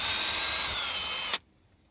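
Power drill boring out a broken bolt, a close steady whirring grind with a thin high whine that runs for over a second, then cuts off abruptly into near silence.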